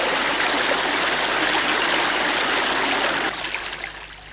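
Cold mountain creek water overflowing from a lake, pouring and rushing steadily in a dense, close wash of sound, easing off slightly toward the end.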